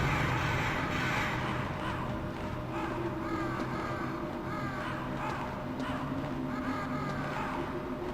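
Crows in the video game Metal Gear Solid give repeated harsh caws over a steady game ambience, several calls spread evenly through the stretch at moderate distance.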